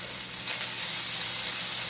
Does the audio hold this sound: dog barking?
no